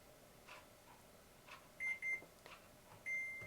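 Quiet button presses, then two short electronic beeps and a longer beep a moment later, clear tones from a nearby Gourmia 7.6-liter air fryer.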